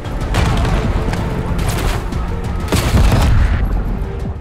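Gunfire and a grenade blast in the video game Black Ops 6, with rapid loud bursts of shots and heavy booms over about four seconds and a player's voice talking briefly among them.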